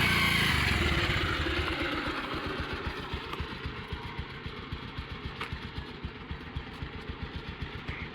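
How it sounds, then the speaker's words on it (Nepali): A motorcycle engine starts with a loud burst, then settles into a steady, rhythmic idle that chugs on evenly nearby. "ल बाइक स्टार्ट गरिसक्नुभयो।"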